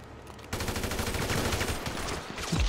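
Machine-gun fire in the video game GTA V Online, heard as a loud, sustained rapid burst of shots that starts abruptly and carries on to the end.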